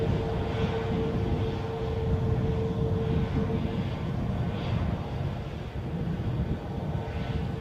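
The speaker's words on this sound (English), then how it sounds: "Tenerife bound 737 inches forward onto the blocks" Boeing 737 bound for Tenerife taxiing slowly forward onto its stand at Edinburgh airport, a loud, steady low engine rumble with a faint high whine held throughout.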